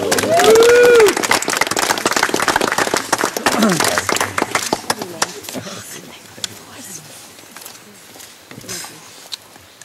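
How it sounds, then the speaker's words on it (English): Wedding guests clapping for the bride's parents at a reception, a crowd of hands applauding loudly at first and then tapering off, with a voice heard briefly at the start. "give them a round of applause there"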